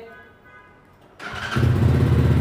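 A Speeder NSX 165 motorcycle is started without its key: after a quiet lull the engine suddenly catches and settles into a loud, steady, close idle.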